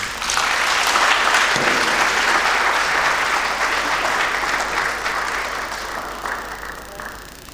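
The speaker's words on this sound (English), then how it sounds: "I think he deserves another round of applause" Sustained audience applause at a 50th anniversary ceremony for the UNESCO Intergovernmental Hydrological Programme, a dense, loud wash of clapping from a large crowd that holds steady and then slowly tapers over several seconds.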